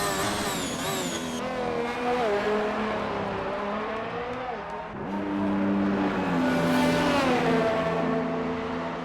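Formula race car lapping the Baku street circuit in a racing video game, a steady engine whine with shifting harmonic pitch sweeping up and down through gear changes, continuous and fairly loud, with commentary voices talking over it.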